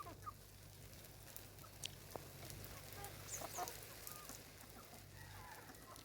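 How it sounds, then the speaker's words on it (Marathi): Faint clucking from village chickens and a big rooster, with a few sharper calls, set against a low steady background hiss. "आपला शाहरुख खान हा आपला जुडा कोंबडा आहे"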